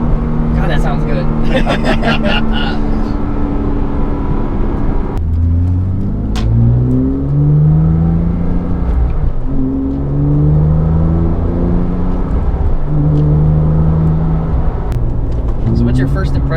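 A Porsche Cayman S engine revs close by, with smooth rising and falling sweeps that repeat through the stretch, as if shifting through gears, while people talk over it.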